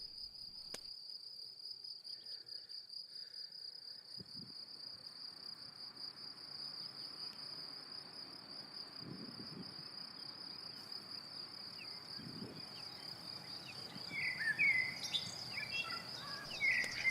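Crickets trill continuously in a pasture, a steady high-pitched pulsing chirr that runs unbroken throughout, with faint bird calls joining near the end.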